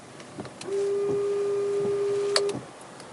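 A windshield washer pump running on a 2013–2019 Mercedes-Benz CLA, a steady electric whine lasting about two seconds in a quiet cabin and ending with a click.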